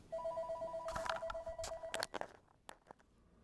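A telephone rings with a steady electronic tone for about a second, followed by scattered clicks and knocks, fairly faint and without talking.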